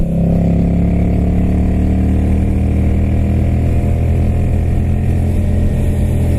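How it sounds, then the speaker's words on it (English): A Kawasaki Vulcan 750 motorcycle accelerating to pass a car on the road, its engine droning loud and steady up close with heavy wind rush throughout. "If anybody out there doubts the passing capabilities of the Vulcan 750, hopefully it just proved you wrong."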